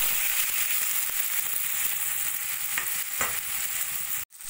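Boiled amla fries in mustard oil with panch phoron and dried red chilli tempering, giving a steady close sizzle with occasional stirring scrapes, ending in a brief abrupt cut.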